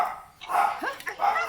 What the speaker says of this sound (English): Excuse the dogs, you know, they don't know we live here.